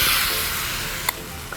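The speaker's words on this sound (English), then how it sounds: "I like to make sure there's plenty of hot pan available for that meat to really start to sizzle" Chicken pieces sizzle and fry in a hot pan, a bright steady hiss close up with a couple of small pops near the end.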